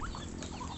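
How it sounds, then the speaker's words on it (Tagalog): Chickens cluck busily while being fed, a brief burst of close overlapping clucks with no talking. "Ganyan po karami ang ating mga manok ngayon. Ating pinapakain."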